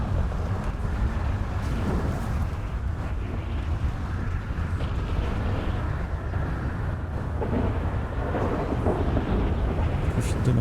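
A steady rumbling thunderstorm in a roleplay video game, low and continuous with wind-like noise throughout, and voices talking intermittently over it.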